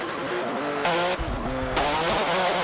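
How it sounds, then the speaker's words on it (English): Race car engine in the Forza Motorsport 7 video game, likely an F1 car at around 200 mph, loud and close with rising and shifting harmonic whine across several gear changes, steady and continuous. "Now the engine sounds a bit different."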